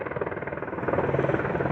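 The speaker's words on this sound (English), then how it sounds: "now a helicopter is just hovering in the ghetto directly over me." Military helicopter hovering directly overhead above a city neighborhood, a steady loud rotor chop pulsing rapidly and evenly throughout, growing slightly stronger partway in.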